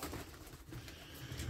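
A pigeon coos softly inside a loft amid low, continuous background noise, faint and fairly distant, with no talking.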